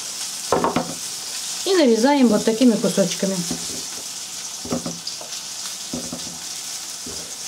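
Carp frying in a pan, a steady sizzle running throughout the clip beneath someone speaking, with occasional knife taps as apples are cut.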